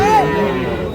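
Crossbred cattle at a village livestock market, a single close, loud moo rising and falling over about a second, with crowd noise beneath.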